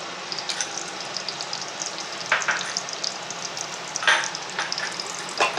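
Ghee poured into a hot pan and sizzling with ground chicken masala paste for chicken ghee roast, a steady close frying hiss with brief louder spatters, no talk.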